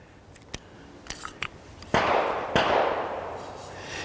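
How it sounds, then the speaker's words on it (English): Rapid gunshots fired at a shooting target outdoors, a few sharp cracks followed by two louder close shots with long ringing decay, heard alone without talk. "sometimes I shoot better fast than I do slow"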